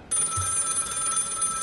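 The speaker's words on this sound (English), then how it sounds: "The ringing sound calling you back" A ringing bell sound effect like a telephone bell, starting abruptly after a brief silence and holding a bright, sustained trilling ring for over a second, loud and alone.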